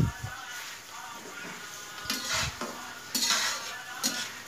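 Vegetables (capsicum, cabbage, cauliflower and tomato) stir-frying in a pan with garlic, heard as a soft sizzle under repeated scraping and clinking of a utensil against the pan, moderately close and fairly quiet.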